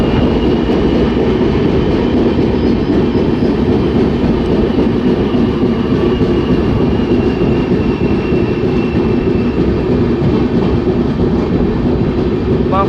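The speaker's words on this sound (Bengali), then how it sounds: "ট্রেন এসে পৌঁছালো বাঁকুড়া স্টেশন" Rupasi Bangla Express pulling into Bankura station rumbles loudly and steadily, with a continuous heavy roll of rail and carriage noise close by from start to finish.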